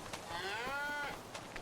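A cow moos once in a long, drawn-out low call in a realistic farming video game, close and clear over a faint background.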